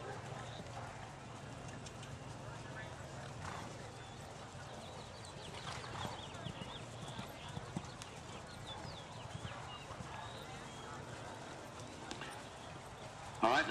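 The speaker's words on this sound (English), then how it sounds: "Let's go on to the canter now" Hoofbeats of a horse cantering in a riding arena, a steady soft clip-clop rhythm through the whole stretch under faint background noise and distant voices, with a louder knock near the end.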